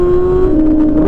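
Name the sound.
vehicle engine revving with C36 muffler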